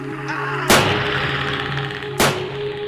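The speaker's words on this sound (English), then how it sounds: "Oh, he's gonna shoot at him though." A Marine in Minecraft's Alien Vs Predator mod fires two loud, sharp gunshots about a second and a half apart over a steady low game hum.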